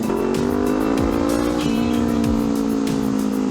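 Honda CL500 parallel-twin motorcycle engine with a remapped ECU, running steadily with a smooth, continuous drone and a few brief pitch shifts as the throttle changes, close and loud throughout, with no pops or bangs and no voices.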